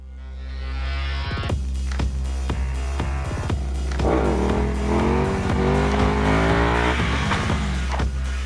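A KTM 1290 Super Duke R Evo motorcycle's powerful engine revs hard and steadily on the road, pitch rising and falling through gear changes, loud and close throughout.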